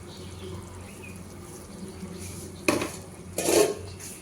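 A lid is set onto a cooking pot with two short metallic clanks, the second a ringing clatter, after a quiet stretch of low kitchen background.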